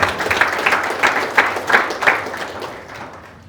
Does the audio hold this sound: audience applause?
yes